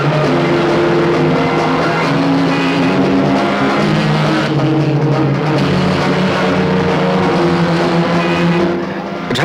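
A car engine roars close and continuously as the vehicle drives fast, its pitch shifting slightly with speed.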